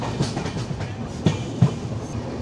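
The 13054 Kulik Express runs on the rails after leaving New Farakka Junction, heard from onboard as a steady rolling rumble with rhythmic clickety-clack thumps from the wheels over rail joints.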